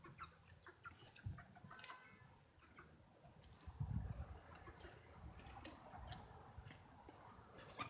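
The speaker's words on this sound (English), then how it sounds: "Max, you don't have to catch the chickens" Hens cluck faintly and sporadically at a distance, with soft rustling and occasional louder bursts against a quiet background.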